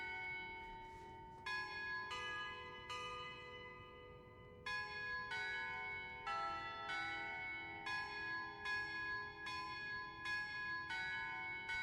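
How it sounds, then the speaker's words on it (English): Church bells in a video game chime the tune of Mary Had a Little Lamb, a series of clear, ringing strikes spaced about a second apart, each tone hanging and overlapping the next over a low background hum. "Is the bell doing Mary Had a Little Lamb?"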